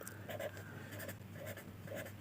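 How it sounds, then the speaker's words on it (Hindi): Chalk or marker strokes on a board during an electrical lesson, a quick series of short scratchy strokes repeated at a steady pace, close and moderately loud, with a constant low hum underneath. "अभी हम लिखते हैं"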